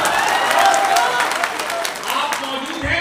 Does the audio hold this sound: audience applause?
yes